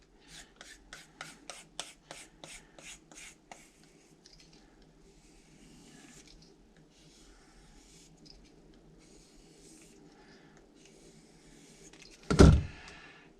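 Knife blade drawn across a DMT diamond sharpening stone in a Magna Guide, a quick series of about a dozen rhythmic scraping strokes, then quiet rubbing and a sudden loud knock near the end.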